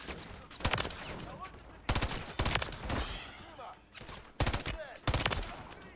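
Automatic gunfire bursts from a first-person shooter, several sharp rapid volleys spaced across the clip, loud and close with crackling reverberation between them.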